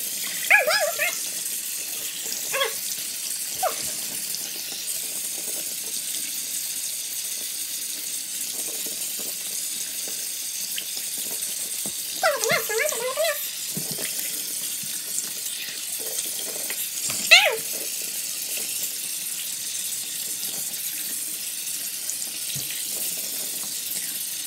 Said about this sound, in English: Washing off my face.